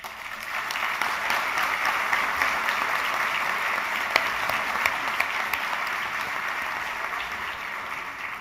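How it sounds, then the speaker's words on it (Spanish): Audience at a business luncheon applauding warmly to welcome a guest economist speaker, a steady, moderately loud wash of clapping with a few sharper claps standing out. "economista Gabriel Odone para recibirlo con un cálido aplauso"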